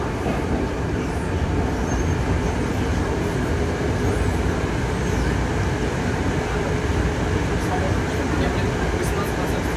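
Moscow metro Moskva-2019 train running on the Big Circle Line, heard from inside as a steady, loud rumble of wheels and motors with faint rail clatter, continuous throughout.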